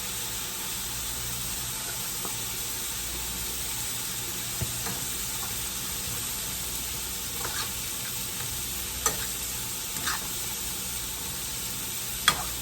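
Cheesesteak meat frying with Worcestershire sauce and garlic, a soft steady sizzle with occasional faint clicks and clinks of utensils, no talking.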